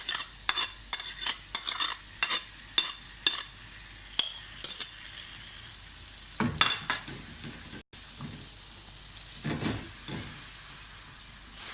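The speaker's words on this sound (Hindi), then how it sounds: "इसको मुसलसल चम्मच इसका हिलाते रहें।" Spoon stirring beef paya with yogurt in a cooking pot, a series of sharp metallic scrapes and clinks over a low sizzle, close and clear, with a quieter bubbling stretch later and no talk.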